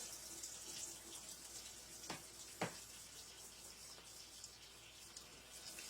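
Hot water pours steadily from a tap or kettle into small egg-dyeing cups already holding white vinegar, a soft continuous splashing trickle with a couple of brief clinks, close and fairly quiet.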